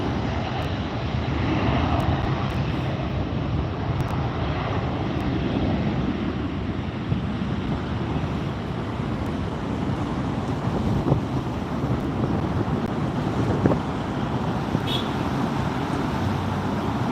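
A Southwest airliner taking off from LAX and climbing away, a steady, broad jet roar mixed with wind buffeting on the microphone, holding at an even level throughout.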